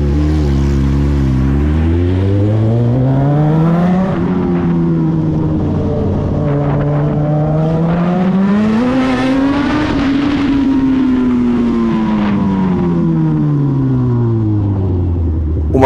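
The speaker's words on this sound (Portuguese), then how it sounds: "um trecho dela nessa avenida aqui com escapamento barulhento e um outro trecho com escapamento silencioso" A Suzuki SRAD 1000 motorcycle with a straight-through exhaust rides along an avenue, its loud engine note rising and falling through gear changes and revs, close and continuous, with no talking.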